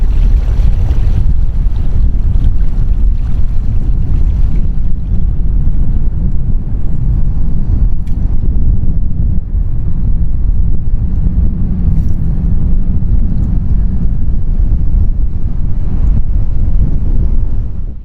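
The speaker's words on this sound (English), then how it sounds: "we're taking a break from being beat up by the wind out in the middle of the river" Strong wind blasting across a microphone out in the middle of a river aboard an Old Town Predator 13 kayak, a loud continuous low rumbling buffet that barely lets up.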